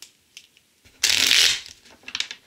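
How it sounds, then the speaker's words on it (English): A quick riffle of tarot cards being shuffled, a single crisp burst lasting about half a second, close up, with faint handling sounds before and after. "we're going to do a little bit more on camera, so you can see for yourself. The shufflings"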